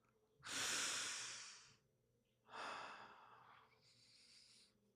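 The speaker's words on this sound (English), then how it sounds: "Take a breath." Two deep, audible breaths taken in close to the mic, each a long airy inhale-exhale swell, the first louder and longer, the second shorter and softer, with no talking.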